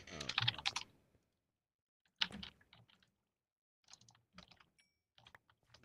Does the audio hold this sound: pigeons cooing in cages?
no